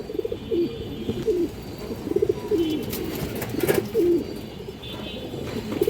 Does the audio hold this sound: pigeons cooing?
yes